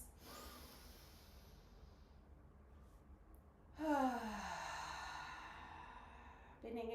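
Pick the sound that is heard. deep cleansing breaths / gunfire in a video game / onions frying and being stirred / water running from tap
deep cleansing breaths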